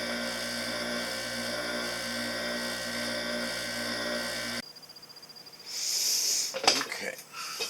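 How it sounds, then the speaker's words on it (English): A bench lathe trimming a denture tooth gives a steady high motor whine with a faint grinding edge. It cuts off abruptly partway through, then soft handling clatter follows. "I like doing this with my bench lathe, if I can, is because I can hold this tooth with two hands while I'm trimming it"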